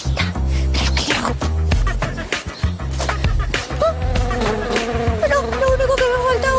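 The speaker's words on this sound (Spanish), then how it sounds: "lo único que me falta es una abeja" A loud, close insect buzz like a bee whines and shifts in pitch over a busy, noisy background.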